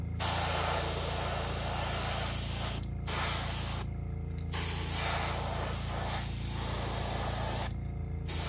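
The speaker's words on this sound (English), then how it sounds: "This airbrush is a Master G266." A Master G266 airbrush spraying paint onto a custom crankbait, a close hissing spray in several bursts separated by short pauses, with no speech.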